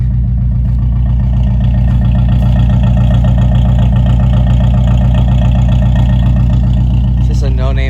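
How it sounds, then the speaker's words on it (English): A K24/K20-swapped Acura RSX Type S idles loud and close through a no-name exhaust with Buddy Club race headers, a steady deep rumble with a brief rise at the end. "So the exhaust is kind of loud on this thing."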